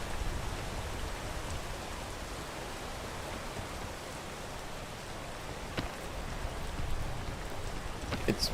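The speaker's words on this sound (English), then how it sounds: "The rain is absolutely miserable." Steady rain pours in the video game PEAK, a constant hiss of drops with a few sharper splashes near the end, filling the scene without any talk.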